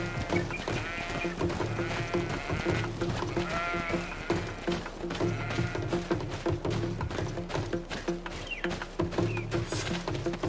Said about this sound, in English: Oh, that's just a goat or something. Sheep.